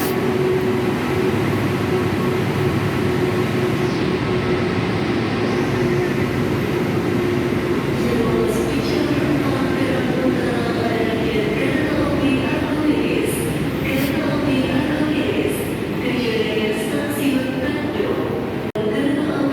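The Ranggajati train at Tugu station, Yogyakarta, gives off a continuous loud rail rumble and hum for the whole stretch, with faint voices mixed in.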